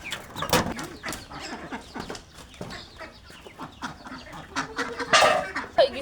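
Pet ducks and chickens at a home yard clucking and quacking in irregular bursts, several birds calling near and loud, with a sharper call near the end.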